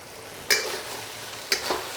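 Beef and noodles sizzle steadily in a hot pan, a soft continuous fry broken by a few sharp clatters of stirring near the start and end.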